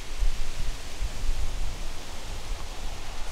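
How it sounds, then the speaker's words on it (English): Strong wind sweeps across Crowsnest Pass at an old colliery site, roaring as a steady broadband rush with low buffeting gusts that thump through the first half and then ease. "And the wind just really picked up."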